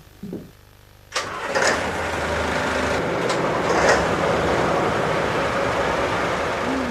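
Large ship engines start and rev under throttle, rising after a brief quiet into a loud, sustained mechanical roar that swells slightly midway and stays steady.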